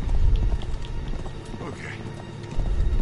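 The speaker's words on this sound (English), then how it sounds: "Hey, isn't that my horse?" Horse galloping in the video game Uncharted 3, steady clip-clop hoofbeats running through the clip beneath a busy game mix, with a brief whinny-like call near the middle and a person talking over it.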